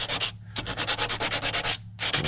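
Hand sanding of wood, rapid rhythmic scraping strokes up close, broken by two short pauses before the rubbing resumes each time.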